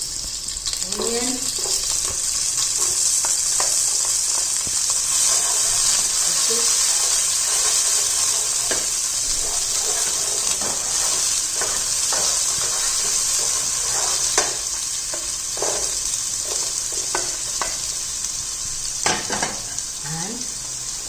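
Green chilies and onion fry on high flame in a pan, a steady loud sizzle with occasional stirring scrapes and clinks throughout.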